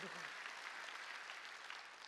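A church congregation at a Sunday worship service applauds, dense steady clapping that fills the room, faint and distant, with a voice briefly audible at the start.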